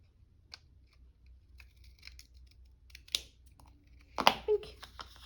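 Scissors snip through paper for a craft banner base, a few sharp isolated cuts near and fairly quiet, with a louder burst of crisp cutting and paper rustle toward the end.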